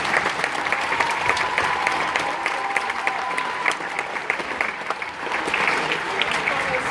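An audience at a school Christmas concert applauds its teachers, steady dense clapping from a crowd filling the room, moderately loud and continuous with no talk.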